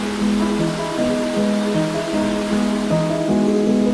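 River water pours over a stone mill weir on the way from Ribadavia to Pazos de Arenteiro, a steady rushing wash with a low tonal drone underneath, loud and close.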